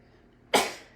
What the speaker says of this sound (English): I knew I was going to sneeze.